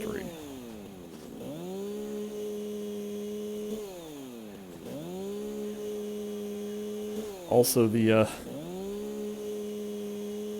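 A chainsaw felling trees in the video game Satisfactory: cycles of a droning motor that rises and falls as each cut revs up and settles, with a short burst of speech near the end.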